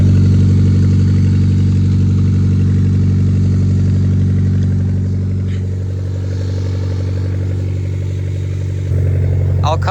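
A car engine with a small exhaust leak idles steadily and loudly up close, with a rough, puffing exhaust rhythm and a slight dip in level partway through.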